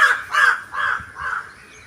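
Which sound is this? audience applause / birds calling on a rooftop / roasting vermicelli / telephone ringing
birds calling on a rooftop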